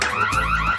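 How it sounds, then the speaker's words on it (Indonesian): An alarm goes off close and loud, with a rapid warbling electronic tone cycling steadily through the brief moment, with no voices over it. "Alarm, teman-teman."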